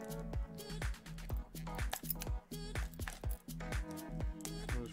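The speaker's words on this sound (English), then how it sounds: "Rub my keys around one more time." Keys rub against plastic packaging in short, repeated scraping squeaks at a steady rhythm. The sound is quiet and close, with no talking.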